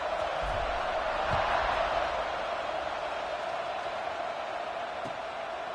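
A college football stadium crowd roars in a steady, dense wash of cheering and noise, continuous and fairly loud, with a few faint thumps underneath.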